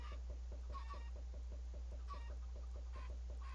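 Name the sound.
chickens clucking in Minecraft video game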